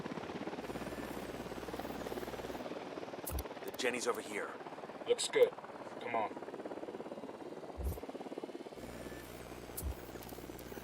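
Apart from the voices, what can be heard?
helicopter (chopper) in video game Ghost Recon Wildlands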